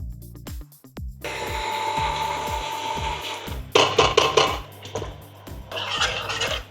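An electric kitchen grinder whirs loudly in repeated short bursts as it grinds gravy ingredients and cumin, with pulsing thuds of the jar and louder rattling stretches.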